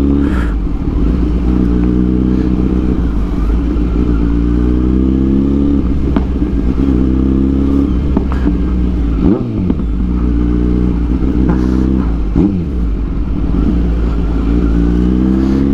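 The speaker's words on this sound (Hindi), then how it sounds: "आज काफी रेव कर दिया मैंने," A Kawasaki Z900 motorcycle with a racing exhaust revs steadily and loudly, its pitch rising and falling in repeated surges with occasional clattering, and no one speaks.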